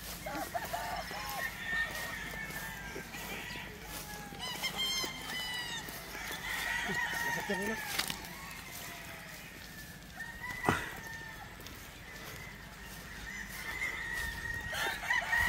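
Battle stag roosters crow repeatedly at a gamefowl range in Isabela, Negros Occidental, with overlapping calls from several birds near and far, plus scattered clucks and a steady background hum.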